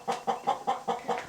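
A hen clucks inside a hen house, a steady series of six short, close clucks evenly spaced.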